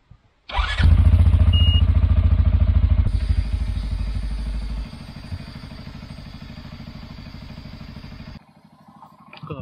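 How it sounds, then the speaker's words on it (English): The winch on a CFORCE 520L ATV reels in with a loud, close mechanical whir and rattle that drops in strength midway and cuts off near the end. "First thing I'm gonna do, I'll take the winch out"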